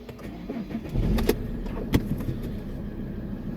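An Alfa Romeo Brera car starts up with a couple of sharp clunks and a brief cranking surge, then settles into a quiet, steady engine hum close by.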